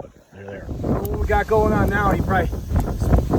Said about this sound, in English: Getting really windy out.